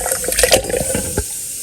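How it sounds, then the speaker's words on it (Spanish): Water pours with tomato, onion and garlic into a blender jar in a brief splashy gush, with a few gurgles and a final spill, close and fairly loud, then fades to quiet. "Ya tengo listo el jitomate con la cebolla y el ajo, se lo voy a agregar junto con el agua."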